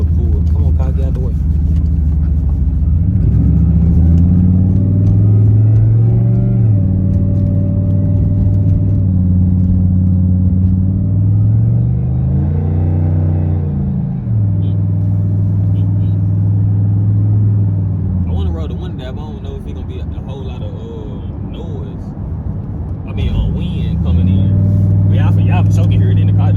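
Cammed 2008 Impala SS V8 with a full 3-inch straight-pipe exhaust pulls hard onto a highway, its deep, loud drone rising and falling through repeated accelerations, heard from inside the car with a voice talking over it near the end.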